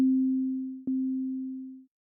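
A plain synth tone at one steady pitch, middle C from a Sonic Pi program, sounds twice back to back, the second note softer than the first, each clean and sustained for about a second.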